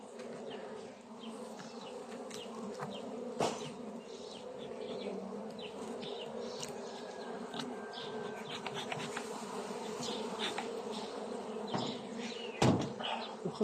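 Caucasian honey bees from a colony that came out of winter weak hum steadily around an open hive, their close buzz rising and falling. A few sharp knocks of frames or wood cut in now and then.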